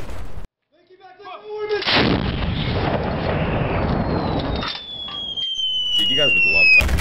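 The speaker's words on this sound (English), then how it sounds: "Oh, it's an artillery." Artillery fire in Battlefield 4 roars in as a loud, sustained blast and rumble that lasts several seconds, then fades into a whistling tail, with a voice briefly audible near the end.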